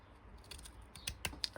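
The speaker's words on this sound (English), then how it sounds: "So I'm just using my scissors, and I'm going to come in and cut back so you don't see those." Hand scissors trim the paper edges of a craft album, giving a few faint, sharp snipping clicks in an uneven rhythm close by in a quiet room.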